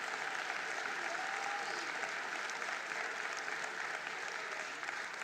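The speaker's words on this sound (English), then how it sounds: "Let's give them another round of applause indeed." Steady applause from a crowd, dense and continuous clapping throughout, fairly faint and even, with no voices standing out.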